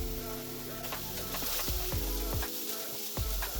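Onions sautéing with a little salt in a pan for a plant-based bolognese, giving a steady, close sizzle with a few soft stirring scrapes and no voices.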